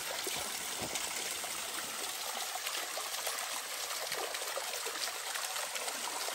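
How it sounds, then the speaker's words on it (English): A small mini waterfall at a trail water source on the Pacific Crest Trail on a rainy day, a steady, faint hiss of splashing, trickling water with no voices. "Little mini waterfall."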